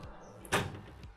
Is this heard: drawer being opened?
yes